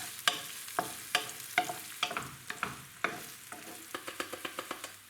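Pieces of red onion fry in olive oil in a pan. A soft sizzle runs under more than a dozen sharp scrapes and clatters as the pieces are stirred, quickening toward the end.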